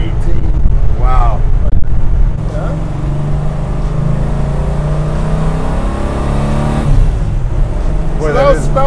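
A custom 1968 Dodge Charger engine drones loudly, heard close from inside the car as it pulls in first gear, its pitch climbing toward the end, with voices talking briefly near the start and end.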